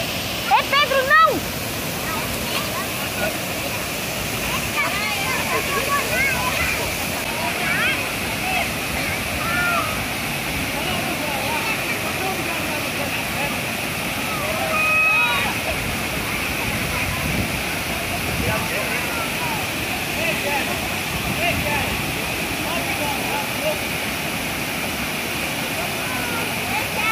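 A waterfall pours steadily as a broad, continuous rushing roar that stays close and even throughout, with occasional brief splashes and faint bird calls in the background.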